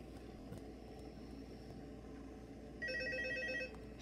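An electronic telephone rings in the horror video game Five Nights at Freddy's 2, a short burst of repeated trilling tones over a steady low background hum.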